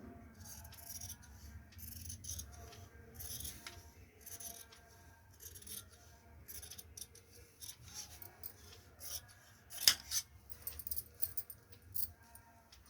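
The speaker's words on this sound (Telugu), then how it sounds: "ఇట్లా తిప్పుకొని మన పక్కకి ఇట్లా మార్క్ చేసుకున్న దాని మీదే లైన్ కట్ చేసుకొని" Scissors snip through blouse fabric along a marked line, producing soft, intermittent cutting and rubbing sounds at low level, with a sharper click near the middle.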